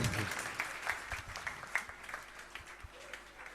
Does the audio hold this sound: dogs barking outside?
no